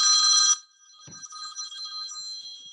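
A telephone rings with a short, loud electronic trill, then a fainter ringing tone lingers after a brief pause.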